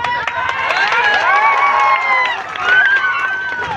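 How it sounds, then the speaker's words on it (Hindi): A loud crowd at a village rally claps and cheers steadily for several seconds, dense and sustained, with voices shouting over the clapping. "ताली तो और गुलगुली बड़ी बज रहा है आप लोगों का"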